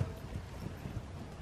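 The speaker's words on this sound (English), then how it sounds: "You have to have a little more faith in your horse over the trot pole." A horse trots over trot poles during a riding lesson, its hooves striking in a quick, even clip-clop at close range, with no voices.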